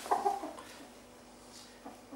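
A live chicken clucks close by, a short burst of two or three clucks at the start followed by quieter scattered sounds over a soft steady hum.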